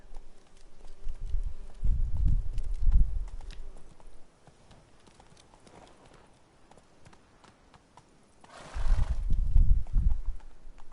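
A horse gallops in The Witcher 3: Wild Hunt, with loud, close, rhythmic hoofbeats in two bursts separated by several seconds of near quiet, followed by a short rushing noise just before the second burst.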